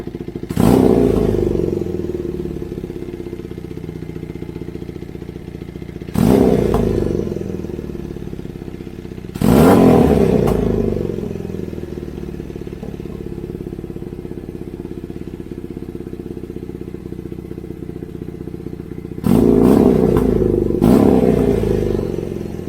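Kawasaki KZ440 motorcycle with a custom high-mount exhaust idling close by, a steady low engine drone broken by several louder bursts of revving and clattering.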